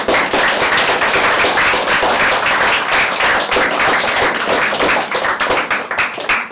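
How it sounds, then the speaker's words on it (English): Steady, dense applause from a workshop audience after an environmental talk on plastic, loud and close with rapid overlapping claps that thin slightly toward the end. "big round of applause for that."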